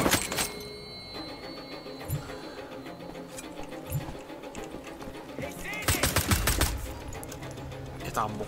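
Bursts of gunfire in the shooter Wolfenstein: The Old Blood, a few scattered sharp shots then a dense rapid volley near the end, mixed with game ambience and effects.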